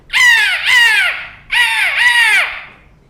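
Loud cawing bird cry used as a sound effect in a stage performance of the Abraha army and ababil birds story, two long harsh caws each with a double swell, alone with no talk.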